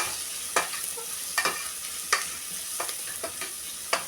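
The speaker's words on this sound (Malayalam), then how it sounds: "ഇനി കറിവേപ്പില ഒന്ന് നമ്മളിത് മൂപ്പിച്ചെടുക്കട്ടെ" Curry leaves fry with onion and ginger in a pan, a soft continuous sizzle broken by several crisp crackles and pops at irregular intervals.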